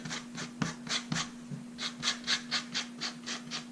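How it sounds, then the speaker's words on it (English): Rhythmic rasping strokes as the inside edge of a leather knife sheath is scuffed for gluing, about a dozen close, quick scrapes in steady succession over a faint constant hum. "I'm going to scuff up the inside edge on this here, because it just will allow the glue to stick a bit better"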